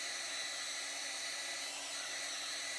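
A hair dryer blows steadily on a small piece of fabric, a constant close, loud airy whoosh with no pauses and no talk.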